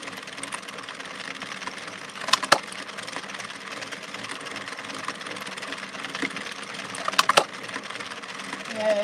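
A Centro sock knitting machine being hand-cranked, a continuous busy mechanical clatter with rhythmic ticking and two sharper knocks, steady and close throughout.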